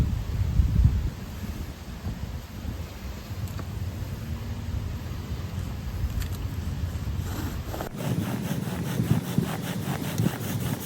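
A bow drill burns in on wet pine under a fatwood bearing block, making a steady, close scraping rub that carries on throughout and grows rougher and more pulsing near the end.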